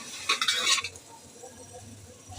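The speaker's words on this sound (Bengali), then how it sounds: "আমি চুলা গাছটা লো মিডিয়াম হিটে রেখে অনবরত নেড়ে যাচ্ছি যাতে লেগে না যায়" Chickpea halwa with coconut powder is stirred in a pot over low-medium heat. A short scraping, clinking burst of the spoon against the pot is followed by a quiet, low simmering bubble.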